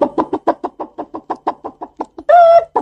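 A chicken clucks in a quick, steady series of short notes, then gives a louder drawn-out squawk before a final cluck, close and clear.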